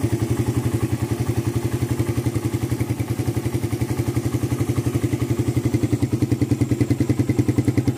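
A motorcycle engine idles steadily after a starter clutch repair, a smooth, even, rapid thumping pulse that stays constant and close throughout, with no voices.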